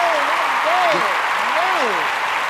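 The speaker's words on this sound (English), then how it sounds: "Let's give him a round of applause." A studio audience applauds steadily for a record producer, with whoops and cheering voices rising and falling over the dense, continuous clapping.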